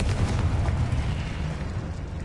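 Confringo, a fiery blast spell cast in the Hogwarts Legacy video game, goes off as a loud, close explosion that rolls on as a deep, continuous rumble for about two seconds, with no voices over it.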